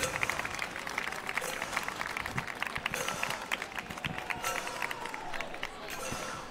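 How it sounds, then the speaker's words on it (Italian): Audience applause at a carnival performance in Nuoro, a crowd clapping steadily and densely for several seconds, close and continuous with scattered louder claps and some voices in the background. "Vi salutiamo intanto con un applauso."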